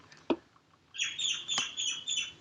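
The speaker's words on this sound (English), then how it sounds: "You can hear the birds are chiming" Birds chirp and squawk nearby in a run of shrill, repeated calls on a rainy day, following a single sharp tap, with no one talking.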